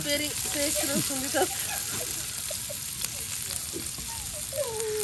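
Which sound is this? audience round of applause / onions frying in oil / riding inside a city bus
onions frying in oil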